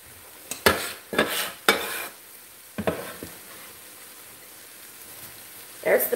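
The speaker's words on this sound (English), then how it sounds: "We'll start stirring it up." Ground beef and onion are stirred in a skillet, with several sharp utensil scrapes and knocks against the pan in irregular bursts over a soft background sizzle, close by.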